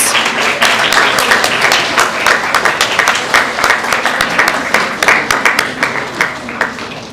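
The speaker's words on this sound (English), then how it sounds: "give all those in attendance a round of applause for supporting you throughout all these ordeals" An audience at a National Honor Society induction ceremony gives a sustained round of applause, dense clapping that stays loud and gradually thins toward the end.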